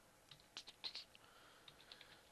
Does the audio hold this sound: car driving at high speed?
no